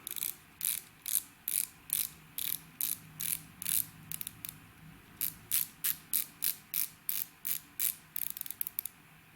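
A rapid series of crisp, close ratcheting clicks from the rotating bezel of a Grand Seiko Hi-beat SBGH257G titanium diver's watch, in quick bursts with brief pauses between.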